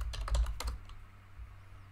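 Keys clatter on a computer keyboard in a quick burst of several close taps, then the typing stops and only a faint low hum remains.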